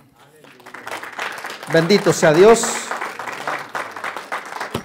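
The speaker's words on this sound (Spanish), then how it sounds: "Dale un aplauso al Señor." A church congregation claps at a Spanish-language sermon, a burst of applause mixed with voices, peaking midway and staying under continuous talk and exclamations from the crowd.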